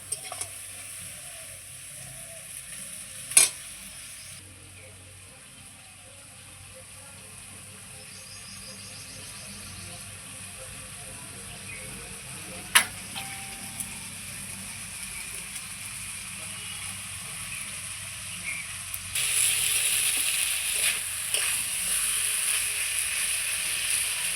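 Helencha greens fry with mustard in a pan, a faint, steady sizzle holding for a long stretch with a couple of sharp clinks, growing slightly louder toward the end.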